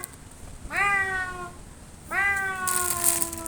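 A pet cat gives two drawn-out, clear meows close by, separated by a short pause, with a faint rustle near the end.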